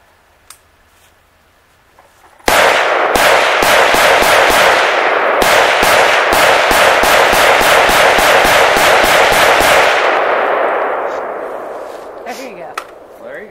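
At an outdoor shooting range, a long burst of rapid gunshots cracks out, fired at steel targets that ring, loud and close, before tailing off into quieter ambient sound.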